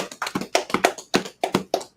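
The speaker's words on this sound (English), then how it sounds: "Clap it up for the brothers" Clapping for the brothers at a religious gathering, close, sharp hand claps in an uneven rhythmic pattern, loud and distinct with short gaps between them.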